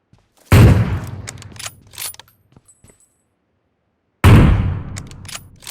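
An AWM sniper rifle in a video game fired into the sky: two loud, sharp shots a few seconds apart, each followed by a mechanical bolt-action clatter and a fading echo.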